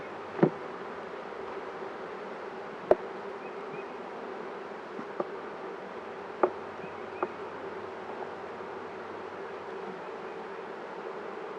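Honeybees hum softly and evenly during a full beehive inspection, a calm low drone broken by a few faint clicks and taps from handling frames.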